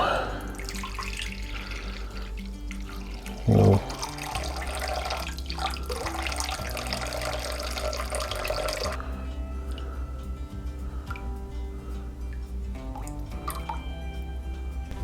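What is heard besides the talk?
water being poured in for olive bread dough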